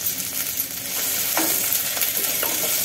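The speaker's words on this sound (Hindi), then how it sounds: "प्याज भाजी दउछि" Onions frying with spices in a pan for a mutton curry, a steady loud hiss of sizzling oil with a few soft scraping stirs, no voices.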